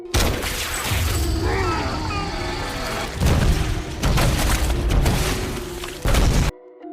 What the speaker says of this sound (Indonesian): Starla segera mengambil pistolnya dan menembak Grant tepat di perutnya yang imut.